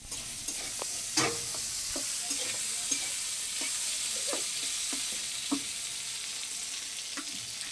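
Eggplant slices frying in hot oil in a Bangladeshi village kitchen, giving a steady close sizzle with scattered clicks and scrapes of stirring, and no voices.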